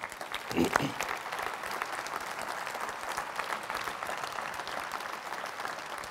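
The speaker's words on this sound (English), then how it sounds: "I think we should give him a round of applause for everything he achieved." Audience applause at the Travel Convention 2009 in Barcelona, a dense steady clapping that runs throughout, with a brief burst of voices near the start.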